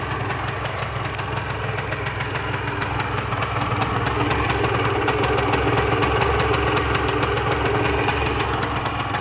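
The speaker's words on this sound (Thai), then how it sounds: "เครื่องนิ่มๆไม่มีดังนะ มีเสียงเฟืองขับนิดๆฮะ ถือว่าเครื่องเงียบใช้ได้เลย" A Yamaha TZM150 motorcycle with its original carburettor idles steadily and smoothly up close, a continuous low engine hum with faint drive-gear whir and no voices.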